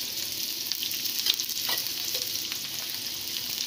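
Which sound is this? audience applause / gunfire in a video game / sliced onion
sliced onion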